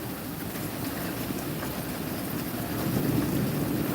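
Steady rain hisses down during a nighttime thunderstorm while low thunder rumbles underneath, swelling louder toward the end, with no voices.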